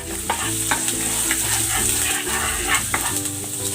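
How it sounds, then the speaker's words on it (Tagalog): Ginger sautés in a hot pan with a loud, continuous close sizzle, and a spoon stirs and scrapes in a few distinct strokes, with no voices. "Gigisa na ako ng luya."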